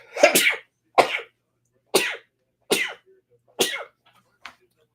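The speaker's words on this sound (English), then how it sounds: "It's not a break night unless I sneeze." One person sneezes repeatedly, about six sharp, close bursts spaced roughly a second apart, loud and explosive at first and then fading to a faint final one, with silence between them.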